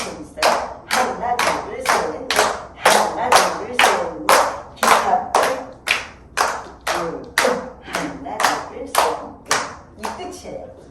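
A group claps hands in a steady beat, about two claps per second, at a laughter-therapy session with a guitar boogie song, sharp and close with slight variation in loudness.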